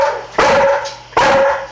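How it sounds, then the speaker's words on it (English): A pit bull barks twice at close range, two loud, sharp barks about a second apart, each trailing off into a short tonal ring in a quiet room. "If you're not looking at it, you're just barking at me."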